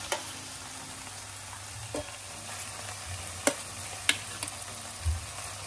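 Chicken cooks in a pan with a soft, steady sizzle and a few scattered ticks and scrapes, faint and close, with no talking.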